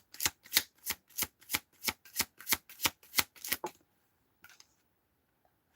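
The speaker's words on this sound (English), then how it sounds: "I'm going through these cards as I'm shuffling to see what we're keeping and what we're not." Tarot cards are riffle-shuffled about a dozen times in a quick, even rhythm, each crisp close burst followed by a short pause, then a couple of faint taps as the deck settles.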